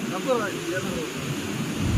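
Sea waves wash steadily onto Achara beach, a broad continuous surf roar mixed with wind buffeting the microphone, while people talk over it.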